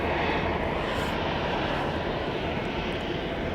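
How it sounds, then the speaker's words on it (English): A Boutique Air Pilatus PC-12 single-engine turboprop arriving at Dallas Love Field from Nashville, giving a steady, moderate, even engine drone heard alone without any talk. "Our next arrival is a Boutique Air flight from Nashville. It's a Pilatus PC-12,"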